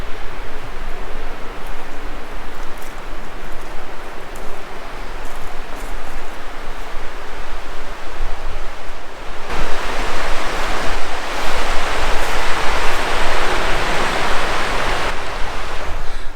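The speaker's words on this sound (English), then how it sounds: "There's a really cool creek that runs right by it." A creek runs right beside a campsite overlooking a river, its steady rushing water filling the scene, loud and close, with the flow swelling noticeably partway through.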